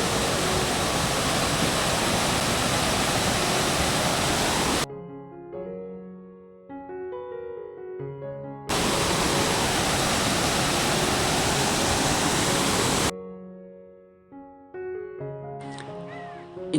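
Water pours steadily at a mountain stream pool in Pachamalai, a loud, continuous rushing in two long bursts broken by quieter gaps with softer trickling.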